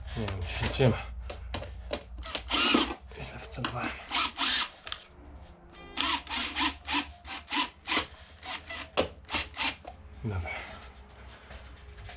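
A power drill drives screws into drywall boards during amateur dry plastering in a house under construction. Short, repeated whirring bursts alternate with pauses and light scraping, and a person talks between them.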